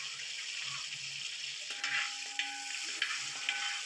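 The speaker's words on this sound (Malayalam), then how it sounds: "ഈ ചെറിയ ഉള്ളി എണ്ണയിൽ കിടന്ന് നന്നായിട്ടൊന്ന് വഴണ്ട് വരണം" Small shallots sizzle in hot oil for a traditional Kerala-style dry beef roast, with a steady frying hiss and a few sharp scrapes as a spoon stirs through the pan; no one speaks.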